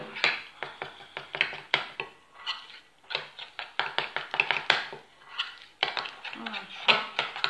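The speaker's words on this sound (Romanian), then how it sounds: "Și amestecăm." Batter being mixed in a bowl with flour and baking powder for a Kammellia caramel-layer cake with walnut cream: repeated scraping and clinking knocks of a utensil against the bowl in an irregular rhythm, close and moderately loud.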